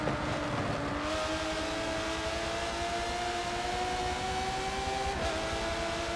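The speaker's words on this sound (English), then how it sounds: "Gets the power down for the final corner, crosses the line." An Aston Martin DBR9 race car in a racing video game at Hockenheim accelerates with a loud, continuous engine note rising through the gears, a brief shift dip near the end, close and steady with no talk.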